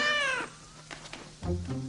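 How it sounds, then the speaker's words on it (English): A cartoon kitten meows twice, a drawn-out whiny mew and then a shorter one after a brief pause, close and clear with nothing else over it. "Caillou loved his new kitten very much."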